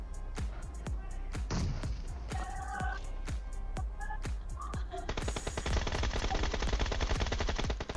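A teammate fires in a mobile battle royale game with rapid, punchy automatic bursts. The steady crack of shots repeats up close and grows denser toward the end, with game sounds mixed underneath.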